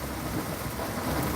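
Steady rain pours down with a deep low rumble of thunder underneath, a dense continuous wash of sound close by with no voices.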